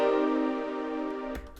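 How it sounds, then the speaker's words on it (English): An ambient ninth chord on a synth in FL Studio rings out as one long sustained stack of notes, then cuts to a brief noisy burst near the end. "most beats use the ambient 9th chord, which sounds like this"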